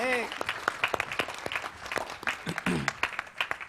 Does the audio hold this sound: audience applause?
yes